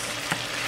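Sauce with a little added water simmering in a pan for fish, a soft continuous sizzle heard close and fairly quiet.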